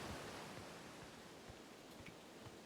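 Steady broadband rush of a waterfall in the video game Outer Wilds, on the planet Timber Hearth, a continuous even wash of falling water with no breaks.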